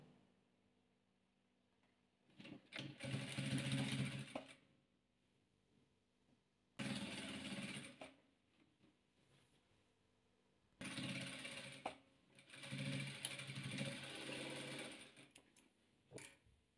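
A sewing machine stitches stretchy patchwork fabric in three separate bursts of rapid mechanical whirring, each lasting a few seconds, with quiet pauses between them.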